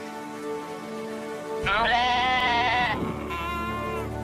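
A goat bleats loudly and close by in one long, wavering cry, followed by a second, shorter bleat against a steady background hum.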